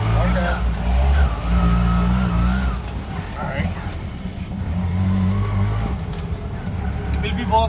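An auto rickshaw engine idles and putters low and steady beside a market in Udaipur, India, with passing traffic around it, while people talk over it.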